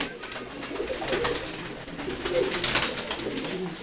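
Red checker pigeons, a paired male and female, coo softly and repeatedly amid steady hiss and light chirpy background noise, the calls rising and falling in gentle bursts over a few seconds.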